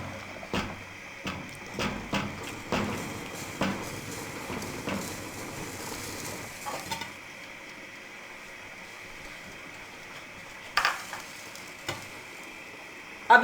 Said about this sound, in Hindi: अब इसको हम अच्छे तरीके से मिक्स कर लेंगे।